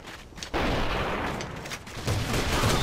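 Gunfire aimed at an enemy tank in the shooter game A.V.A: rapid bursts of loud, close shots that start abruptly and repeat in clusters, with faint talk in the background.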